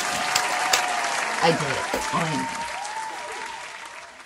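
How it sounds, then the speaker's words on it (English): Steady applause from a group fills the background while a person talks over it, celebrating a finished handmade dress. "Can I get some clap?"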